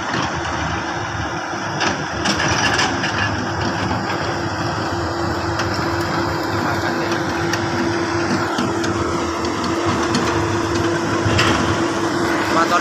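A diesel excavator engine runs steadily outdoors at roadwork, a continuous mid-distance drone and rumble with faint clanks over it.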